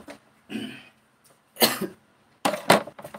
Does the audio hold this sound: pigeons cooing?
no